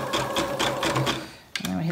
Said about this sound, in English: I've selected zigzag on my sewing machine, and we're now going to zigzag this on